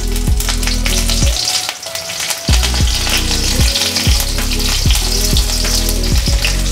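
Green chillies hit hot oil in a kadai with a loud, crackling sizzle, one strong burst after another. A rhythmic low tonal hum pulses under the continuous spatter and there is no talk.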